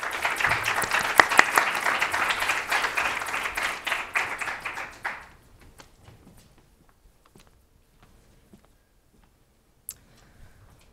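A college wellness-center audience greets presenters with steady, moderately loud clapping that fades out after about five seconds, leaving a quiet room with a few faint taps and shuffles.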